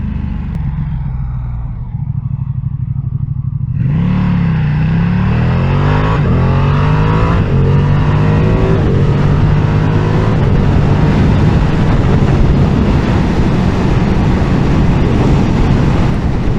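A Ducati V2 Streetfighter motorcycle starts quiet, then its engine rises in repeated revving sweeps through the gears, loud and close over heavy wind rush while riding.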